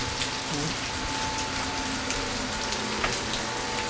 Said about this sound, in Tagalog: Ay, mababasa kayo ng ulan.